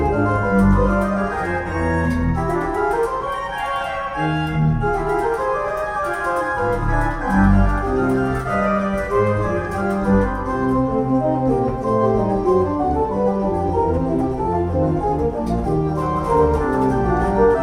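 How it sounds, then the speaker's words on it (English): Pipe organ plays the opening of a Bach trio sonata with hands and pedals, three interweaving lines over a deep pedal bass, full, loud and continuous with no talking. "I'm going to play a trio, the beginning of it, by Johann Sebastian Bach"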